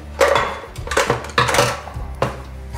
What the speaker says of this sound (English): we just pop the basket into the air fryer